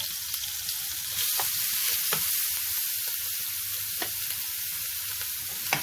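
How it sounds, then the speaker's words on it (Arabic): Chopped onion fries in a spoonful of ghee in a hot pan, giving a steady close sizzle with faint clinks and stirring ticks and no talking. "كده جبت طاسه وسخنتها وحطيت معلقه كبيره من السمن ببصلايه مفرومه متوسطه"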